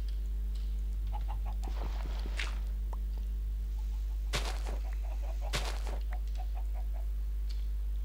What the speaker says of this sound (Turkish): Nerede bu tavuklar?